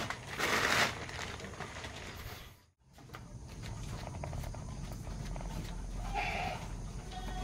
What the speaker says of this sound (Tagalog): Pasok ko na yung kambing at padilim na naman.